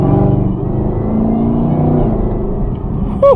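A 2022 Chevrolet Camaro ZL1 muscle car's engine accelerates under a steady, loud rumble that holds its note throughout, with a brief higher whine near the end.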